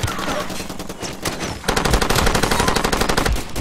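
Heavy machine gun fire in the Far Cry 2 video game rattles in loud, rapid, sustained bursts, growing denser and heavier partway through.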